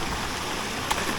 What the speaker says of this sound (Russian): А вон он уже и водопад показался.